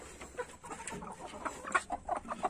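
Chickens in a breeding coop clucking in short, irregular bursts, several birds close by with sharper squawks building toward the end.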